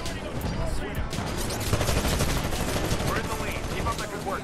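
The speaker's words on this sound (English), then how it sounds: "I'm getting shot at." Rapid gunfire in the shooter game Titanfall on the Angel City map, dense bursts of shots crackling continuously over several seconds, loud and close with a busy battle din.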